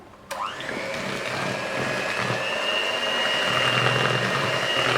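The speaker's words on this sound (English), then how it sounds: "I have added all the 4 eggs together. Now I am going to beat all together." An electric mixer starts up and beats four eggs for a Christmas cake, a steady loud whirring hum that rises slightly in pitch and speed, close and continuous.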